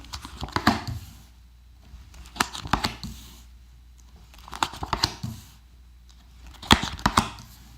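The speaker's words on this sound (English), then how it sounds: "let's pull your other cards out for you" Tarot cards slid and flicked out of a deck, giving four separate bursts of crisp papery shuffling and snapping, each about a second long, close up, with quiet pauses between and no talking.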